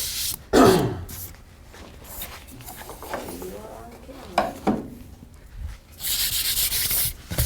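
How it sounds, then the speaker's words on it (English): Fine sandpaper rubs across a wooden piece during joinery finishing, giving scratchy strokes that come and go in bursts, with a loud sustained rasp near the end and a few quieter handling noises between strokes. "we've got it sanded up to its finest level of sandpaper now"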